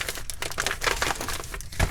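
A heavily taped birthday mail package is torn open, with close, busy crinkling, crackling and ripping of tape and paper in irregular bursts and no talk.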